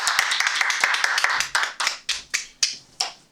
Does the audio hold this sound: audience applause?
yes